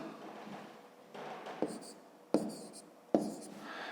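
A pen scratches numbers by hand on paper at close range, working in short bursts with three sharp taps as strokes begin, over a quiet background with no talking.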